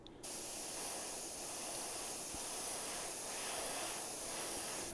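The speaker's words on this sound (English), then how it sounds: "if I keep the airbrush straight at those little sections, the air actually pushes the template down and holds that in place" An airbrush blows a steady, close hiss of air over a small template while spraying chrome-effect paint. The hiss runs nearly unbroken after a short start.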